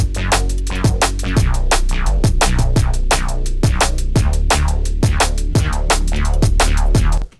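A synth beat built from two preset channels played together for a drum and bass style track: a dense, steady run of punchy percussive hits over sustained tonal layers, loud and continuous until a sudden stop.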